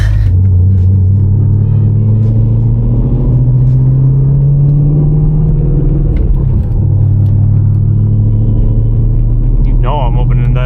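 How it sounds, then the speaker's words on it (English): Close, steady low rumble of a BMW M3's engine and exhaust idling from inside the wide car, holding level throughout with a slight swell near the middle; a voice speaks briefly over it. "You know I'm opening that exhaust"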